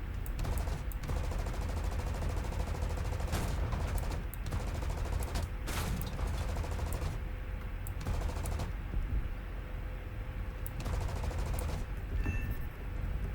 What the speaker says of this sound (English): I have to rely on my turret gun